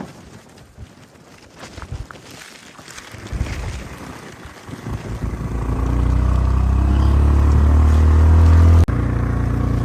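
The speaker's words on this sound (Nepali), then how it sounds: "तपाईँले यो हावालाई महसुस गर्न सक्नुहुन्छ होला कतिको हावा लाग्छ भनेर" Strong mountain wind in Mustang builds from light gusts into a loud, buffeting rush against the microphone, a deep continuous roar that dominates the second half.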